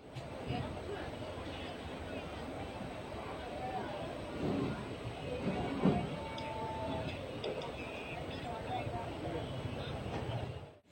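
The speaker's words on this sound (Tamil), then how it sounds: "ட்ரெயின் கிளம்பிடுச்சு, இப்போ போயிட்டுருக்கு" Train 16102, the Kollam to Chennai Egmore express, running in an unreserved coach, with a continuous rumbling drone and faint rhythmic clatter throughout, steady and close.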